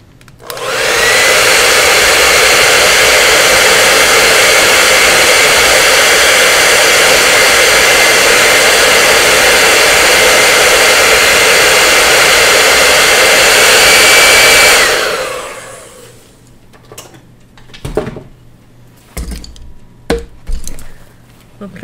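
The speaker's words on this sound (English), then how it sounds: "Here comes the dryer." A hair dryer blows loud and steady for about fifteen seconds while drying paint on a garden gate, then cuts off, leaving soft handling clatter and quiet movement.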